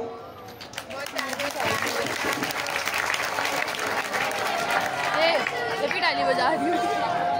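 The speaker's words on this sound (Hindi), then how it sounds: "ताली बजा रही हूँ।" A crowd at a farewell ceremony breaks into sustained applause after a recited couplet, with many hands clapping at once. Lively chatter and voices mix in throughout.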